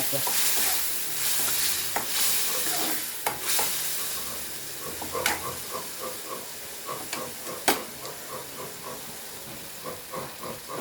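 Tomatoes frying in a pan, a continuous soft sizzle and hiss broken by repeated sharp scrapes and clacks of a utensil stirring, close by with no talking.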